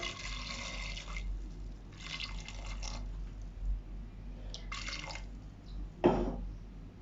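Water is poured in a few separate splashing bursts onto vegetables and spices in a pressure cooker for a vegetable kurma. The pours are close and moderately loud, with brief quiet gaps between them.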